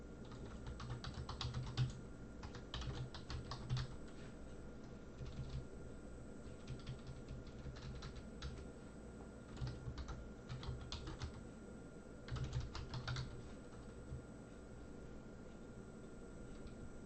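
Typing on a computer keyboard, quiet and close: irregular bursts of soft key clicks with short pauses between runs, no voices.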